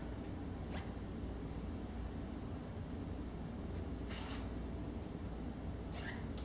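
Short zipper pulls on a repurposed knit jumper, a few brief rasping bursts near 0.8, 4.2 and 6 seconds over a steady low background hum.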